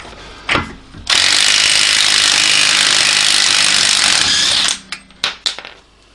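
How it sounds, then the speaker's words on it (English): Power tool loosening the axle nut on a Hyundai Santa Fe during wheel bearing work, one short burst then a loud steady buzzing run of about four seconds, followed by a few clanks, close up. "Get this axle nut off."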